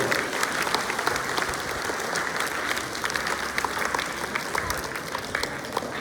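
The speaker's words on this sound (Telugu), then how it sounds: "so once claps for the neo Gitanjali and మాలకర్" Steady, dense applause from an audience of parents at a school seminar hall of Geethanjali High School, continuous clapping for several seconds with faint crowd murmur underneath.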